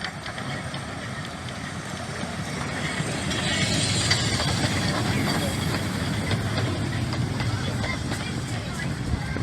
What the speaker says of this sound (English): here's the train arriving at Dungeness.